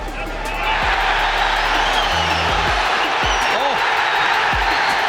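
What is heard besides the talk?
boxing crowd cheering and applauding on their feet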